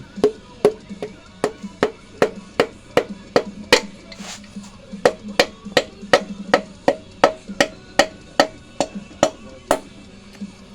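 Sharp, evenly spaced taps ring out as a piston is driven and seated into a small-block Chevy engine during a turbo budget build, about two knocks per second, close and crisp, pausing briefly near the middle with no talk over them.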